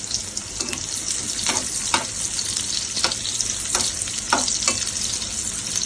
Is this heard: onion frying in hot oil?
yes